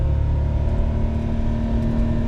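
Engine of an Autozam AZ-1 (Suzuki Cara) kei sports car with a Keisport PNP engine management unit installed, a loud, steady droning hum heard up close with no talking.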